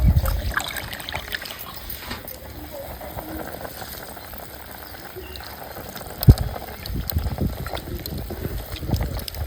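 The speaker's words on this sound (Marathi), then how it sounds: "स्वच्छ असं तांदूळ धुवून घेतलेलं इथं." Ration rice being washed by hand in a vessel of water for a village-style bhat, with close sloshing, swirling and trickling and one sharp knock partway through, under a woman's speech.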